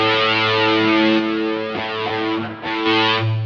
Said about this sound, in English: Right now it's on distortion 2